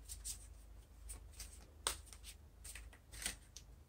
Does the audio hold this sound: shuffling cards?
yes